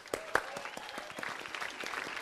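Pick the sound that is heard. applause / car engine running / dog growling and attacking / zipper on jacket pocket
applause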